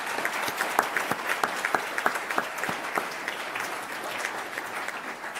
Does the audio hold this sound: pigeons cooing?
no